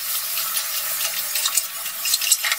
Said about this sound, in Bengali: হলুদ আর নুন দিয়ে ভালো করে নাড়াচাড়া করে নেব।